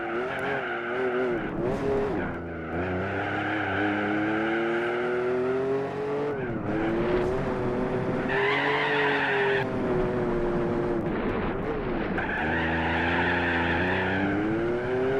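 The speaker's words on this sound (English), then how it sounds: "the reason it sounds like there's lots of digging into the ground is because we are. Our tyres have studs in them" Studded tyres digging into tarmac in Gran Turismo 4, heard as continuous engine drone with shifting harmonic pitch and scraping, skidding tyre noise throughout, loud and close with no talk.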